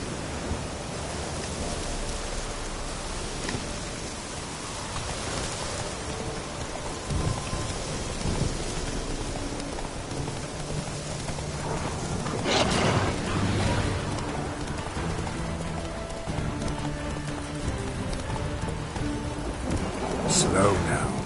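A thunderstorm rolls through The Witcher 3: steady heavy rain hisses throughout, with low thunder rumbles swelling in the middle and again toward the end.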